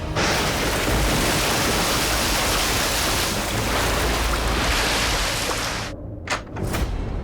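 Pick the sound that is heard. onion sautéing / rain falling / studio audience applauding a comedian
rain falling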